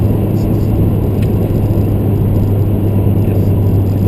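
Inside a 2013 Scion tC RS8 just after the driver lifts off the accelerator and the car drops into eco mode, a steady low engine and road drone hums loudly and evenly with no change in pitch.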